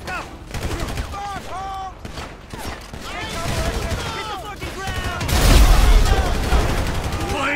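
Gunfire in the Grand Theft Auto 5 video game crackles in rapid bursts under a shouting voice, with heavier bursts building toward the end.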